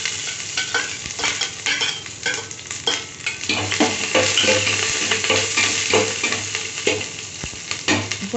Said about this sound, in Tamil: இப்போ நம்ம கருவேப்பிலை போட்டு பொரிச்சிக்கலாம்.